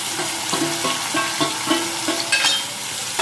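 Steady sizzling of prawns frying in masala in a pan, with periodic scraping and stirring clatter, close and fairly loud with no voices.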